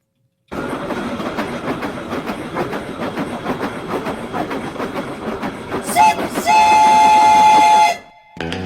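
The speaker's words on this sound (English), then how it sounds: "I hear that train a-coming." A steam train rolls in with a rhythmic clickety-clack of rail wagons, then a loud, sustained steam whistle blows for about two seconds before cutting off.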